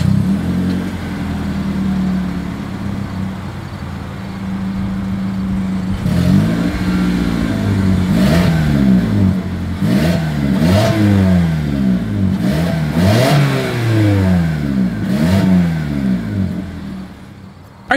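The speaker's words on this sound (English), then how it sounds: "As always, here is that exhaust clip." A 2024 Toyota Corolla idles with a low rumbling exhaust, then revs repeatedly in several rising and falling bursts, loud and close.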